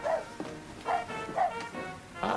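A dog gives four or five close, loud barks at a steady pace, with short pauses between them.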